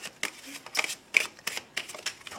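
Petit Lenormand cards are shuffled by hand for a reading, giving a quick run of close, crisp riffling flutters in an irregular rhythm with no talking.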